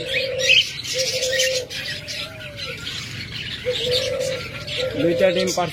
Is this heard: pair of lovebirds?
yes